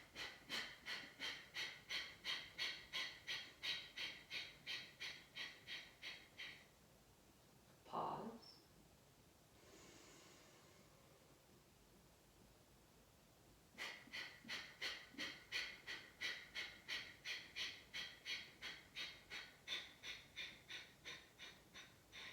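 Pranayama breathing practice: a long run of rapid, rhythmic forceful exhales, close and steady, then a pause with one deep breath, then another quick series of sharp exhales.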